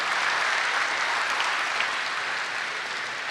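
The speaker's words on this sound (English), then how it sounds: "Let's give a round of applause to the people who are making the engine of America getting up and going." Applause from a crowd at a Trump campaign event held at a workplace in Walker, Michigan, a thick, sustained sheet of clapping at steady loudness from start to finish.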